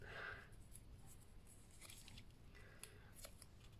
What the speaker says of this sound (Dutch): En dan knip ik het touw af.